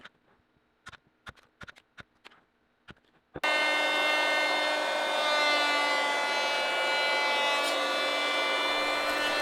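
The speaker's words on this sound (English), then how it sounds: "removing the bark from each of the 3 pieces. It's really easy to do this with a chisel and a mallet." Several sharp, dry knocks of a mallet striking a chisel ring out at irregular intervals as bark is stripped from log pieces, then a loud, steady machine drone abruptly takes over.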